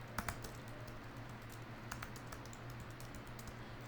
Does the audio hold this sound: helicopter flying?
no